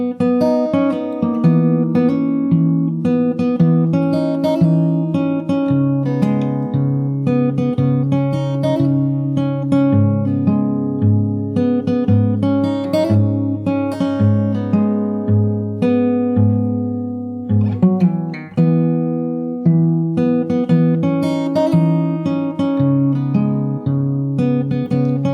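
Fingerstyle acoustic guitar plays the chorus of a song in a flowing arpeggiated pattern. Plucked notes ring over moving bass lines with a brief pause near the end, close and steady with no talking.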